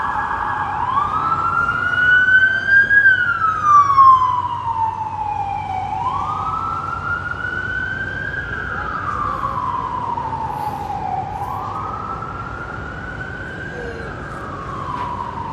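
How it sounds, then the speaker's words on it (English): Emergency vehicle sirens wail through a Manhattan street in New York City, loud and fairly near, slowly rising and falling over several cycles above a low rumble of traffic. "All right, we got more sirens over here."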